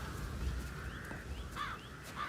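Crows gathering in a tree in the video game Hitman give a few cawing calls at moderate distance over a low ambient rumble.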